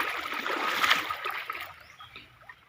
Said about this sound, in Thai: น้ำไหลแรงแล้วก็ไหลเร็วมากนะครับ